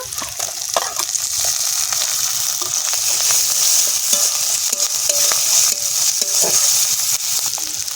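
Ginger paste frying in a pan with turmeric and chopped tomatoes, a close, continuous sizzle with scraping stirring strokes and small pops running throughout, no voices.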